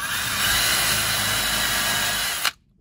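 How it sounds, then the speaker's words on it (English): A power drill fitted with a countersink bit bores holes in a board for a van bed platform, a loud close whine held steadily for a couple of seconds before stopping abruptly. "And then we're going to take this drill bit. It's a countersink."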